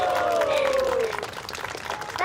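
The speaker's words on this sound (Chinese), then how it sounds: "掌声！" A short burst of clapping from a small group greets the announcement of an eating contest's results, chicken legs and lamb skewers, with a sliding electronic tone and voices mixed in before the clapping thins out.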